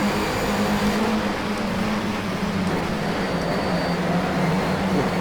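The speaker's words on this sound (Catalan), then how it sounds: "El so del cotxe està molt bé treballat, també." A BMW E90 touring race car engine at Monza in the Automobilista racing game, a continuous loud droning engine note with a steady pitch, no talk.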